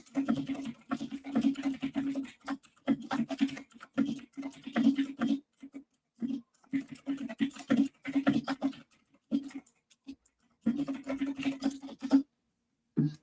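Rapid clicking keystrokes on a computer keyboard come in irregular bursts with short pauses, fairly faint and close, with a steady low hum underneath and no talking.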